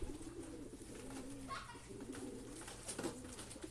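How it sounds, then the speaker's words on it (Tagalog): A pigeon's soft cooing in the distance over steady low background noise, a few faint chirps scattered through. "meron na tayong pumitik na ibon"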